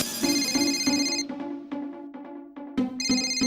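A phone ringtone plays while a plumber is being called, a loud repeating electronic melody that briefly thins out midway before resuming, with no talk.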